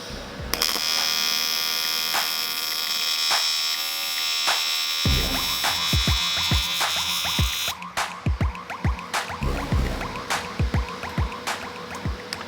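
AC TIG torch on a Magnum TIG Pro 200L welder set to about 80 Hz, a steady electric buzz that shifts partway through to a rougher, pulsing crackle of repeated arc ticks, loud and close with no talk.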